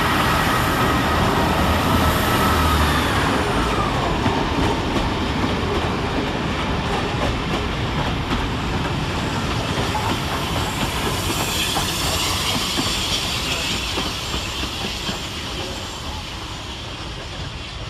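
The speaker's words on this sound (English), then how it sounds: "Leading off right behind him is 158842, running 5 minutes late with the 1247 Northern service through to Newcastle." Northern unit 158842 pulls out of Carlisle station, loud rolling rumble with clickety-clack over rail joints and a rising hiss and squeal, fading gradually as it draws away.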